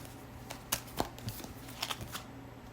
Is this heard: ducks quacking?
no